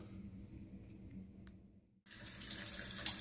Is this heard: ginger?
no